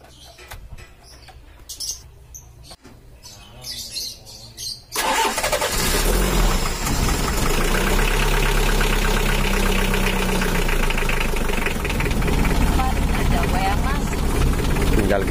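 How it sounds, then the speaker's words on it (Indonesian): An old Mitsubishi L300 van engine cranks and fires at about five seconds, then settles into a loud, steady, rough idle close by. Quieter handling noises and faint voices come before the start. "Oke, kita coba dulu untuk mesinnya."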